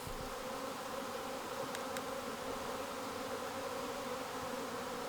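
Honey bees buzz steadily around a hive, a dense continuous hum from many insects close by, with no voices.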